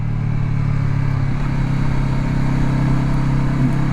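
Honda CB500X motorcycle engine pulling steadily up a steep incline with a passenger and luggage aboard, a loud, continuous mid-pitched drone at part throttle that holds even and close throughout, with no voices.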